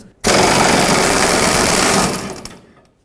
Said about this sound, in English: Now let's take off the 3 21mm mounting nuts that hold that bracket that I just talked about onto the frame